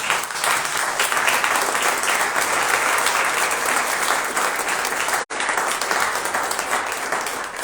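A church congregation at a Sunday service breaks into loud, sustained applause, dense clapping from many hands filling the space steadily, with a brief cut partway through before it continues.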